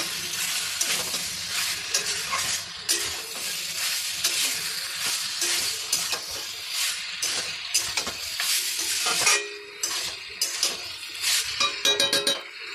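Chicken feet and gizzards are stir-fried in a pan, with a steady loud sizzle, scraping strokes of a spatula and occasional metal clinks running throughout, with no voices.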